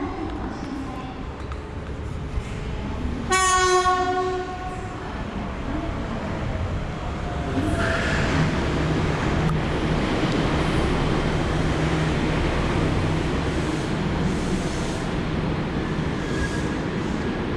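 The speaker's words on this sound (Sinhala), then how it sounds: "දැන් අතනින් එන්නේ මොනොරේල් සිස්ටම් එකේ මොනොරේල් මේ ට්‍රේන් එක එන්නේ" An Okinawa monorail train pulls into a station with a steady, rising rumble and a brief tonal chime near the start, over busy ambient noise.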